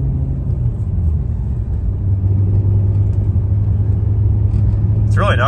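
Turbocharged BMW E46 with an M52/M54 inline-six running B58 coil packs, giving a smooth, steady low engine rumble that stays even and close throughout.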